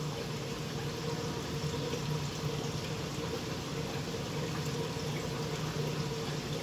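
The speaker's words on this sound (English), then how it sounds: "Let me show you guys an example of how this looks when a siphon starts." Water runs steadily through an aquarium sump siphon, giving a faint, continuous rushing flow with no pauses.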